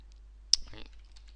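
A single sharp computer mouse click sounds close and crisp in a quiet room, followed by a faint rattle; a voice speaks softly around it.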